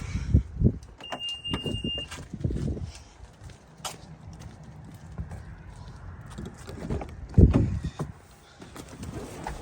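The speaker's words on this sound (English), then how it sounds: "I slammed the door." A car door slammed shut with a heavy thud near the end, after a few earlier knocks and handling noises inside a quiet parked car with the engine off.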